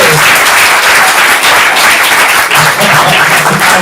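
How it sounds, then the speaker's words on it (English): An audience at a stand-up comedy class showcase claps steadily for a comedian, a dense and loud wash of applause sustained for several seconds with no break. "Give him a round of applause"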